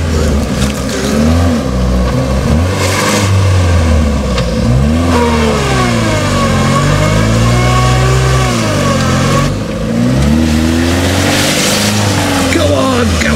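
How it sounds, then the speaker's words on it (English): A Nissan Micra accelerates hard across a stubble field, its mid-pitched engine revving up and down in loud sweeping surges with brief dips, close by throughout, with people talking and cheering over it. "we can hear you from space with the acceleration"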